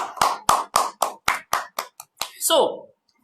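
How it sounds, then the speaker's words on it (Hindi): An online audience claps at a public speaking competition result declaration, with a run of about ten sharp, evenly spaced claps, close and fairly loud, ending in a brief voice. "यस, तो जोरदार तालियां मुझे मुकेश जी के लिए"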